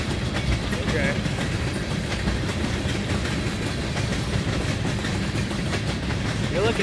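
A train of empty freight cars rolls steadily past nearby, with continuous rumbling, rhythmic clattering of wheels, and a faint squeal.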